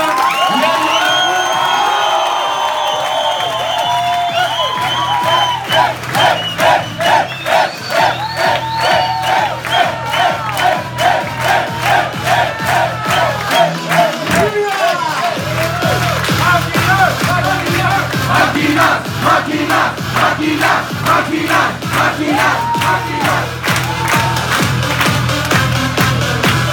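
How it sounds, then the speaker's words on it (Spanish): A crowd at an event in Medellín bursts into cheering, whoops and shouts, then settles into loud rhythmic clapping in unison that carries on steadily, with voices still calling out over it. "Te vamos a recibir con un aplauso"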